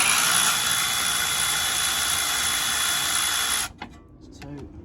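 A power tool fitted with a flexible universal joint spins out the rear brake caliper bolts on a Volvo XC40. The whine is loud, steady and high-pitched and runs for several seconds before cutting off, leaving quiet workshop clatter.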